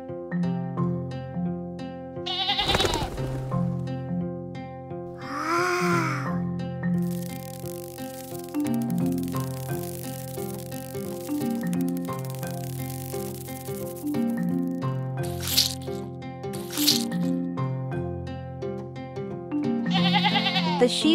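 A cartoon sheep bleats several times in short, wavering cries over a busy background of music.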